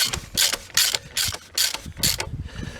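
A ratchet clicks in about five quick bursts, close and crisp, as the plastic oil filter cap on a Ford Fiesta is tightened during an oil and filter change.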